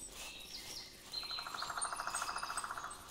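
Birds chirping within a video game hunting scene: a steady run of rapid, evenly spaced chirps at moderate level over soft ambient background, starting about a second in and continuing to the end.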